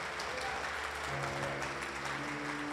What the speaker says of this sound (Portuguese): Aplauda mais uma vez o Senhor com toda a sua força